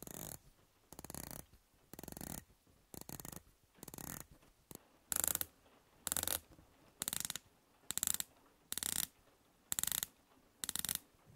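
San Martin dive watch bezels, two budget models including the SN008C and a BB58-style piece, rotating in quick bursts of sharp ratchet clicks, about a dozen separate turns, close and crisp with no talking.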